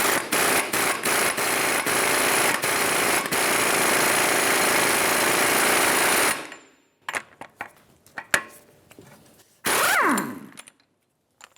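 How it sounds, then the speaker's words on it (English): An impact wrench with a 30mm axle nut socket loosens the front axle nut on a 2010-2015 Lexus RX350, hammering loudly and steadily for several seconds, then goes quiet apart from clinks and a short whirring spin-down. "Using a 30mm axle nut socket, we're going to remove the axle nut."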